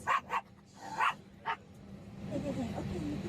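A dog barks four times in quick, uneven succession, loud and close, and then a person starts talking over a low background.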